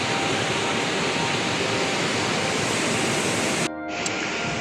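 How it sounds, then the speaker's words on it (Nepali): The Karnali river at Kalikot flows as a loud, steady broadband rush of water that stays continuous, then drops off abruptly near the end. "यो चाहिँ पछाडि बग्ने चाहिँ कर्णाली नदी"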